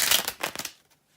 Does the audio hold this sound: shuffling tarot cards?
yes